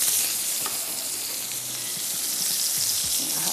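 Garlic frying in a pan, a dense, steady close sizzle and crackle with faint stirring underneath.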